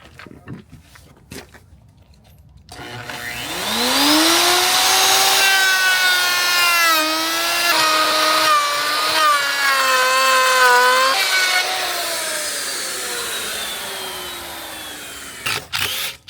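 A router cuts wood for a built-in deck bench with a loud, steady high-pitched whine lasting about twelve seconds. The pitch wavers slightly as the bit bites, then the motor spins down, with faint clatter before and after.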